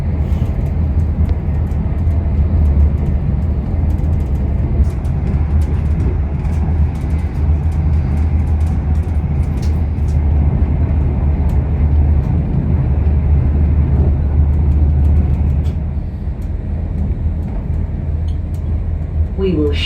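Inside an Avanti Evero train running towards Rugby, a steady low rumble of the moving carriage with faint clicks and rattles, continuous for the whole stretch, with a voice talking over it.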